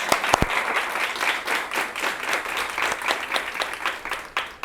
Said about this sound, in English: So I'd like to ask for a round of applause to all of you ladies for being here tonight.